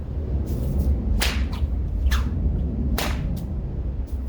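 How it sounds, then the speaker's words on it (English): Waxed snake whip cracking outdoors: several sharp, loud cracks come about a second apart, with lighter flicks in between, and no talking. "faster snake whip, but it works good"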